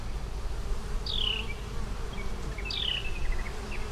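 Honeybees buzz in a dense, steady drone around an open hive frame of brood, pollen and honey, close and continuous, with a couple of brief higher chirps cutting through.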